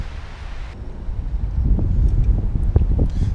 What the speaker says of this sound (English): This wind is freaking just horrible.